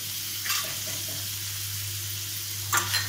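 Soaked chana dal and peanuts fry in hot oil for cashew upma, giving a steady low sizzle with two brief louder crackling bursts from stirring.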